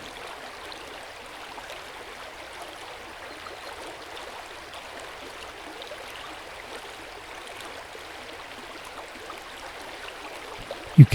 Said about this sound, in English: Hear the gentle trickle of a stream nearby.